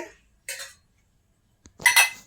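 Spicy papaya and potato curry being served into a bowl: two short bursts of ladle and crockery clinks close by, separated by a pause, with no talk.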